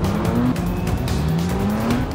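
Race car in the Forza Motorsport 6 video game braking too late on a city circuit, tires squealing in rising skids over a loud steady engine roar for a couple of seconds, no talk.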